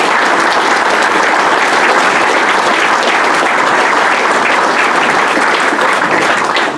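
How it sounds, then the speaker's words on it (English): A crowd at the Southern Textile Association's 111th Annual Meeting breaks into loud, sustained applause, dense and continuous throughout, tailing off only at the very end. "Please give me a round of applause for Andrew."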